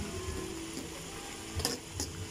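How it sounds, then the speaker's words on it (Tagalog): Low, steady sizzle of garlic frying in a pan, with a couple of faint clinks of a utensil partway through. "Prito tayo ng bawang yung medyo mula-mula lang."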